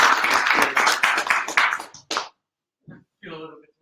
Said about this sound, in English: Okay, let's give a warm applause